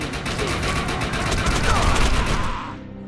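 Rapid automatic gunfire from the video game Defiance 2050, loud dense bursts of shots filling the clip before cutting off near the end.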